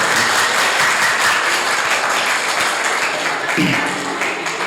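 Applause from an audience at an SMK Miftahul Ulum school gathering in Samarinda marking the Prophet's birthday, a steady broadband clapping wash that stays loud throughout and thins slightly near the end.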